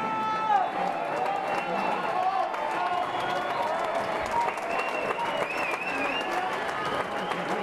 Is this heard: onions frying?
no